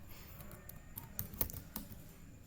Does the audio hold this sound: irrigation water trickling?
no